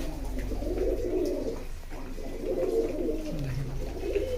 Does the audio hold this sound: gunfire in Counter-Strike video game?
no